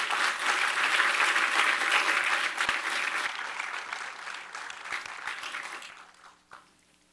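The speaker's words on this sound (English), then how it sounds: "Y'all please get him a round of applause." A panel-event audience applauds loudly and steadily for several seconds, the clapping thinning and fading away toward the end, with no voices over it.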